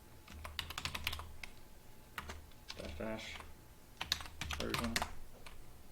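Someone types a command into a terminal on a computer keyboard, with quick bursts of close, crisp key clicks separated by short pauses, and a voice speaks briefly between the keystrokes.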